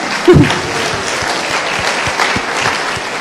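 Audience at a citizenship ceremony in Cincinnati applauds steadily, with a dense wash of clapping throughout and a louder burst near the start.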